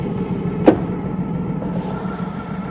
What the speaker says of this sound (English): That's a nice clean engagement into reverse.